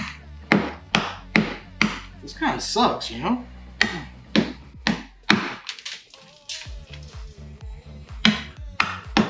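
A hammer cracking corn for mead, sharp repeated taps and thwacks in an uneven rhythm, close and loud, with a person talking between strikes.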